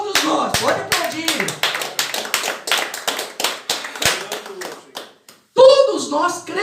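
A congregation claps together during a church service, loud and close, with quick, even, rhythmic hand claps for about five seconds, then a brief pause before a voice speaks.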